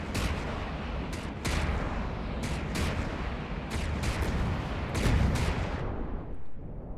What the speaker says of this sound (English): that's a secondary turret gun again